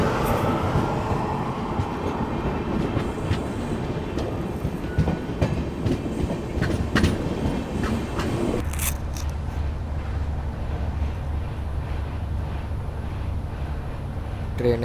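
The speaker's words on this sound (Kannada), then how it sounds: "ಟ್ರೈನ್ ಹೆಂಗೆ ನಾನ್ ಸ್ಟಾಪ್ ಹೊಂಟತ್ ನೋಡ್ರಿ" A long-distance passenger train on the Bengaluru to Shirdi route runs non-stop, its rolling rumble and steady clickety-clack loud and continuous from inside the coach. Halfway through, the sound shifts to a deeper, smoother roar.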